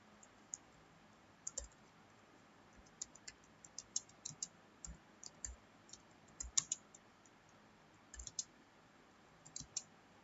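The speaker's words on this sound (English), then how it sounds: "now we'll type the program" Keys click on a computer keyboard while an HTML program is typed into Notepad, with sparse, irregular keystrokes in short bursts, quiet and close, and no talking.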